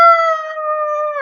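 A voice imitates a wolf howling at the moon, one loud sustained howl held steadily and dropping at the end, close and alone.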